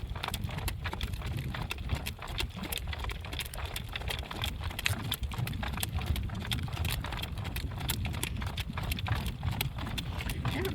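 Hooves of a driven horse clip-clop steadily at a slow trot, close and evenly rhythmic, while a person talks over them.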